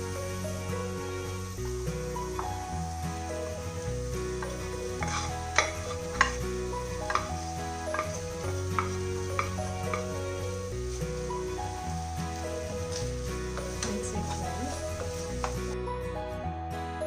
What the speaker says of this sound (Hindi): अब हम उस स्टफिंग में इसको मिक्स करेंगे